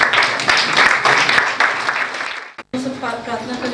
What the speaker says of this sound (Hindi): आइए हम सब खड़े होकर जोरदार तालियों के साथ हमारे आंटी जी का